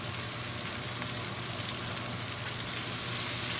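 Beef brisket pieces fry in a little olive oil in a pot, giving a steady, close sizzle and crackle with no voices.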